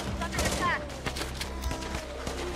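Machine-gun fire crackles in the Infection Free Zone strategy game, a rapid rattle of shots at moderate distance over a steady battle din, easing into scattered single reports.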